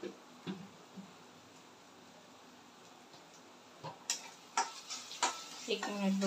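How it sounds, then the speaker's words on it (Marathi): A masala of turmeric, Ghati masala and salt for soybean sabzi sautés softly in a pan, with scraping stir strokes and clinks that grow busier toward the end, and a brief voice near the close. "एक मिनिटभर परतून घेऊया।"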